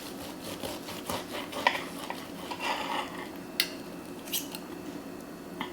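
A knife slices through cooked picanha steak against the grain, giving faint, quiet scraping strokes with a few light clicks of the blade against a board, repeated in a loose rhythm.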